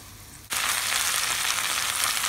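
Onion and fresh fenugreek (methi) leaves fry in a pan, a quiet hiss that jumps into a loud, steady, broadband sizzle after the first half second and holds there with no voices.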